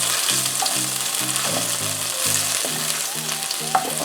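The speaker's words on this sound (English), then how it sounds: "Then I put the ginger and the garlic. Stir that in. Medium heat." Ginger and garlic frying over medium heat in a pan while being stirred, a loud bright sizzle under a series of rhythmic spoon scrapes, close and continuous, one sharp tap near the end, no speech.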